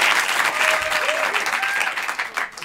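Improv show audience at a Paris festival clapping to vote, a short burst of dense crowd applause with a few whoops, tapering off toward the end.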